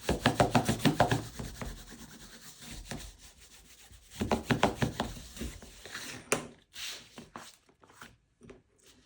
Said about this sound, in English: Rub it down.